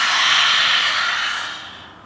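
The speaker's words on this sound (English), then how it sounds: "Big breath in through the nose. And exhale at the mouth." A deep breathing exercise during a yoga flow, drawing air in through the nose and exhaling through the mouth, produces one long, close, soft breath that fades out slowly with no talking.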